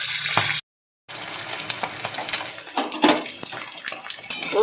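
Pabda fish frying in a pan of hot oil, a steady close sizzle with light clinks of utensils, broken by a brief silent gap before the crackle resumes.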